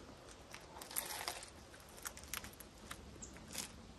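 Crunchy bites into a grilled mac and cheese sandwich on fresh sourdough, cooked while car camping: a few crisp, crackly bite-and-chew bursts spread over several seconds, close to the mic, no talking.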